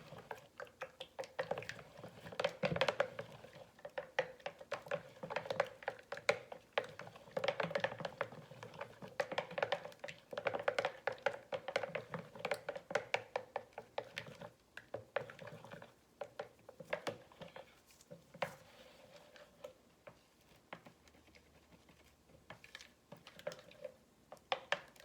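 Melt and pour soap colours, brown poured into clear base, being stirred together in a container, giving a steady run of quick tapping and scraping clicks close by, fading and thinning toward the end.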